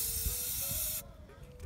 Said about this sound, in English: Spray it like for a longer time.